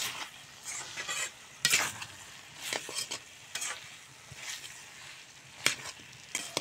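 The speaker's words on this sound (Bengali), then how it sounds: "এখন বরবটিগুলিও মশলার সঙ্গে ভালো করে কষিয়ে নেব।" Yardlong beans being stir-fried with spices, salt and a little sugar in a pan: a soft continuous sizzle under repeated spatula scrapes and stirring strokes, close and fairly quiet, no talk.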